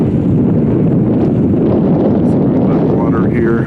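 Strong wind buffets the microphone in a steady, loud low rumble throughout, with a voice faintly audible under the roar.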